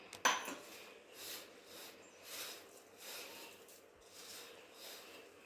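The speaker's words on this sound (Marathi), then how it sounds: "आता ज्या भांड्यातनं आपण वाटण वाटून घेतलं ते भांडं सुद्धा मी इथं धुवून घेते." A pot used for grinding spice paste is washed by hand, with a sharp clank at the start followed by quiet, rhythmic rubbing and scrubbing swells against the metal.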